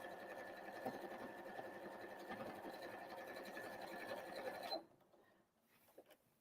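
A sewing machine stitches a Christmas tree napkin in a steady, fast mechanical whir that runs evenly for several seconds, then stops abruptly, leaving faint handling clicks.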